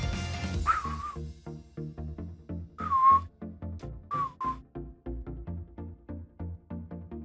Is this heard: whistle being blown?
yes